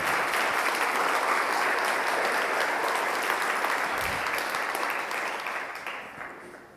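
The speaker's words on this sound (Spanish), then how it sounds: "Dale un aplauso para Cristo, por favor." A church congregation at a Sunday sermon claps together in a full, sustained round of applause that stays even for several seconds, then gradually fades away near the end.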